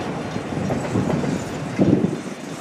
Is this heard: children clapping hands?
no